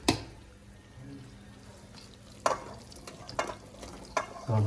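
Jaggery cooking down in a pan for peanut chikki, a quiet bubbling sizzle broken by several scraping stirs of a spoon against the pan, close by.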